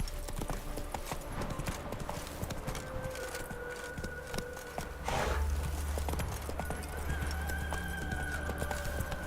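Horse Roach galloping in The Witcher 3 video game, a steady run of clip-clop hoofbeats with a brief whinny midway, fairly close over low ambient rumble.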